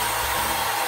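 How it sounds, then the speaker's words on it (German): Bosch Unlimited Gen2 Serie 8 cordless stick vacuum cleaner running with a loud, steady motor whir that holds constant for the whole moment, with no voices. "Ich halte den Staubsauger hier an, da drückt ihr den Knopf einmal, dann ist er ein bisschen warm und dann geht er an."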